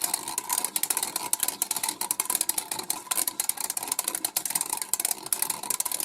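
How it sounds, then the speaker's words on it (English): Elderberries being ground to release juice for homemade wine, a close, busy mechanical crunching and clicking with rapid irregular rhythm throughout. "Then you grind them up, get all the juice out of the berries."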